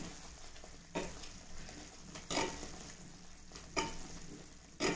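Ghee bubbles and sizzles steadily in a pan as it finishes cooking, a continuous fine crackle with periodic swells as a ladle stirs it, close and moderately quiet.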